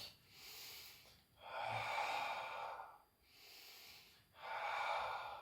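Deep belly breathing during an exercise session: three slow, close breath cycles, each a long airy rush that swells and fades, separated by brief pauses, with no talking.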